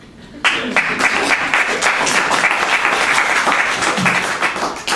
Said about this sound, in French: Vous pouvez applaudir, c'est gratuit.